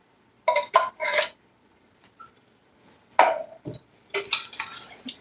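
Beans being stirred into a pot with a utensil: a few scraping, clinking strokes up close, separated by short pauses.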